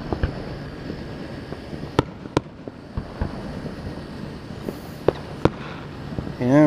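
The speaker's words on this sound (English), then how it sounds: "This is some fireworks show," Fireworks going off during a July 4th show, with sharp isolated bangs scattered over a constant crackling, rumbling background, some reports close and loud, others softer and farther off.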